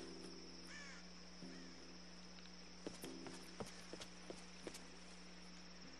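Crow caws in Tomb Raider 2013, a couple of faint harsh calls over a steady insect-like ambient hum, followed by a few soft footstep-like taps.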